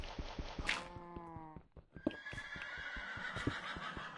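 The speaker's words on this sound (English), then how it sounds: "Shut up, you horse!" A Minecraft horse neighs in a drawn-out, wavering whinny, then quick hoof clip-clops and further snorting calls follow, clear and close.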